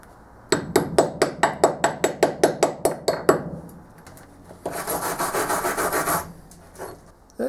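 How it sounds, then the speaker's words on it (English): A rapid series of about fourteen sharp hammer strikes on welded metal, evenly spaced and ringing, followed by a few seconds of harsh rasping or grinding. "And hit it with the hammer, like we've been told."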